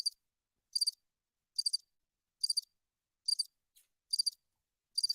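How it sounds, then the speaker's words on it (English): Crickets chirp in regular bursts of trilled pulses, about one burst every 0.8 seconds, clear and isolated against total silence with no other sound. "It's fucking crickets."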